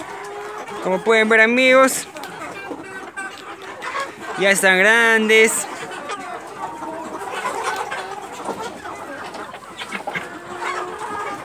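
Creole hens at a home backyard coop cluck in short bursts near and fairly loud, with someone talking over and between the calls.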